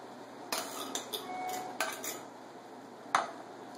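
Cans of chili beans tip into a pot already holding two pounds of ground beef and two onions, giving a few sharp metallic clanks and scrapes spread over a few seconds, with a louder clank near the end and no talk.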